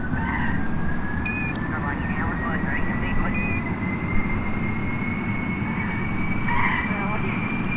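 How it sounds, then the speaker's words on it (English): Spacecraft main engines throttle up in Kerbal Space Program, a loud steady roar with a rising whine that climbs gradually in pitch, while a voice talks faintly underneath. "I throttle up the main engines and go for it"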